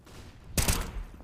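Gunfire in a competitive shooter match, a quick cluster of two sharp shots in close succession, loud and near, standing out from a quiet background.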